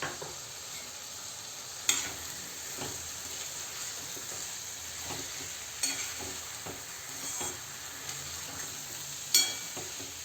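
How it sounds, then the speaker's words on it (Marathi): Brinjal and soaked moong dal stir-fried in masala in a pan, a steady soft sizzle with occasional louder scrapes of a spatula at regular intervals, fairly quiet and without any talk. "आता हे वांगे आणि डाळ मसाल्यामध्ये छान परतून घेतलं आहे आपण."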